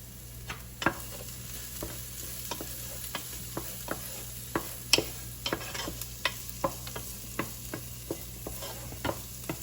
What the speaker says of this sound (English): Cook that garlic down. Add a little bit more olive oil to this.